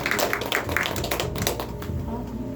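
An audience claps continuously in a dense, fast patter of many hands, steady and fairly loud throughout.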